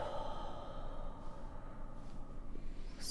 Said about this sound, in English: and exhaling